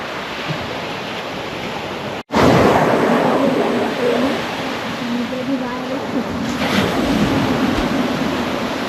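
Ocean surf washes in continuously at Chivla Beach in Malvan, a broad rushing roar with wind buffeting the microphone after a brief cut near the start.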